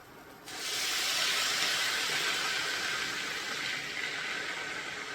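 Hot water poured into a pot of fried broken wheat for khuder bhaat, a sudden loud steady hissing and rushing that starts after a brief quiet moment and holds evenly, slowly easing, with no talking.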